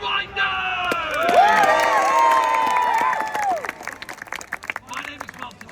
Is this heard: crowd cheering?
yes